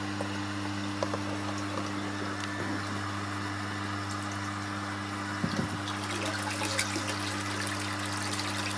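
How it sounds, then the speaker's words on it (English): A pump pushes water through a garden irrigation system, giving a faint, steady flow and trickle over a constant low mechanical hum, with a few small knocks. "So while I've got the pump on, we just let it flow"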